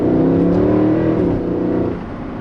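A Mercedes C63 AMG sedan's engine roars loudly and steadily, a deep sustained rev that eases off slightly toward the end, with no voices over it.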